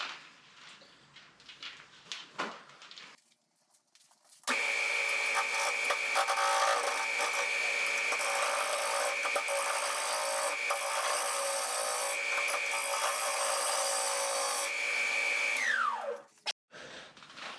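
Wood spinning on a lathe at around 1400 RPM as a tool takes a corner off, a loud sustained rasping, scraping hum with a steady whine that runs for about twelve seconds, then stops abruptly.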